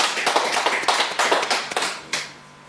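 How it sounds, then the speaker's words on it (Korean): A church congregation at a Thanksgiving Sunday service applauding: a burst of many hands clapping unevenly, fairly loud, then tapering off into near silence at the end. "우리 하나님 앞에 박수 드릴까요?"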